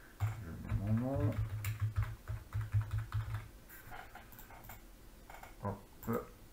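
Rapid clicks from typing a name on a computer keyboard patter in short bursts, close and crisp, while someone talks over them.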